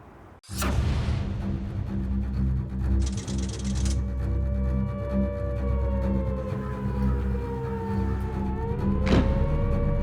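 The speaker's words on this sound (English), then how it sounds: "the air raid sirens were telling the people of Liverpool to take cover" Air raid siren sounding over Liverpool during the Blitz, a loud sustained wail that holds steady and bends slightly in pitch, with a rumbling low background throughout.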